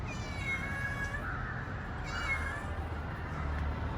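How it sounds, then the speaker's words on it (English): A cat that has climbed up high gives a couple of drawn-out meows, moderately close, over a steady background hiss with no talking. "ये बिल्ली डर के ऊपर चली गई"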